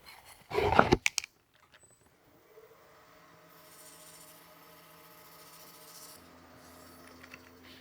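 A cast hybrid pizza cutter blank spinning on a lathe gets a short, loud rasp of sandpaper for under a second, followed by a low, steady motor hum.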